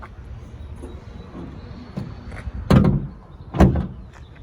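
The front trunk lid of a black 2018 Tesla Model 3 Long Range is pushed shut, making two close, solid thumps about a second apart after some quiet handling.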